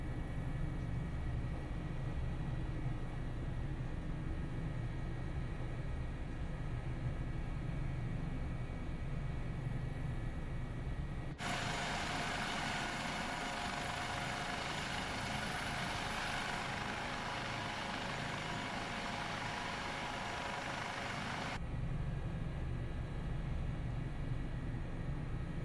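A Dauphin helicopter taxiing out to the main runway, its engine and rotor making a steady continuous roar heard from inside the cockpit, with a harsher, brighter rush of noise in the middle stretch before settling back, no talk.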